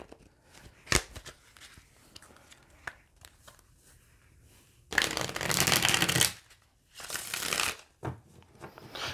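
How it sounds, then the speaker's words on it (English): Tarot cards are shuffled by hand in several bursts: scattered light riffles and taps, then two longer, louder flurries of cards riffling close up, with a faint voice in the background. "Okay, one more shuffle"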